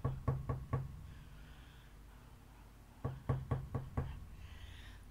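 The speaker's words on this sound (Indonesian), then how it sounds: "Ia mengetuk pintu." Knuckles rap on a wooden door in two separate bursts of four knocks, close and crisp with a short pause between them.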